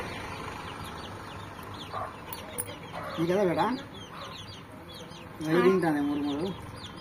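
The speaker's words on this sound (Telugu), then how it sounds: "కోళ్ళు అయితే ఇక వెళ్ళడానికి రెడీ అయిపోయినాయి" Chickens cluck nearby in a few short bursts of bubbling calls over a low background hum.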